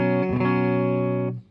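Electric guitar rhythm tone on the neck pickup through a Fender Deluxe Reverb amp, a single clean sustained chord ringing for over a second before cutting off sharply, alone without talk.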